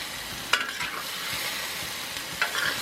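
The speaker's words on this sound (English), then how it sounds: "marinated fajita meat, cooking in that Weber wok" Garlicky marinated fajita steak searing in a Weber wok, a loud, continuous sizzle with a couple of sharp clanks and scrapes as the meat is tossed, close up and with no voices.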